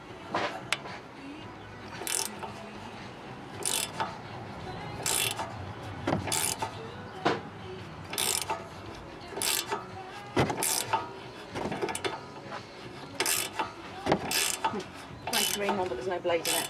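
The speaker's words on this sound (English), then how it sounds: "you're going to need a 13mm spanner to undo those" A 13mm spanner ratchets on the rear brake caliper bolts of an Alfa Romeo, making bursts of sharp metallic clicking at irregular intervals, close and fairly loud, with quieter handling noise between bursts.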